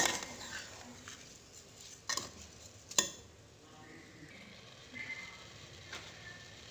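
Washed rice being stirred inside a pressure cooker for green pea pulao, giving soft scraping and shuffling with a few sharp clinks of a spoon against the metal pot, fairly quiet and alone.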